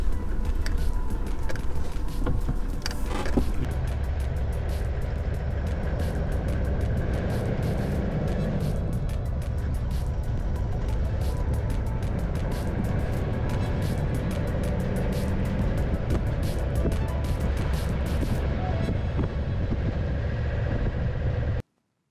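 79 series 4x4 crawling through sand dunes in low first gear with the clutch feathered and brakes on, a steady close engine drone with rattling and creaking over sustained rumble, stopping abruptly at the end.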